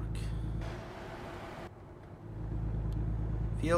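Simulated truck driving in American Truck Simulator on a busy highway: a steady low engine and road drone runs throughout, with a brief hiss burst early on and a rising tonal sweep at the end, moderately loud and without speech.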